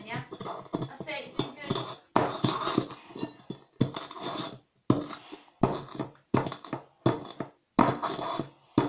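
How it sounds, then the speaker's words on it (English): Utensils stir garlic into food, making repeated clinks and scrapes of metal on dishware in short, uneven bursts separated by brief pauses. "So get the garlic on there and just mix it back off and then mix it all in"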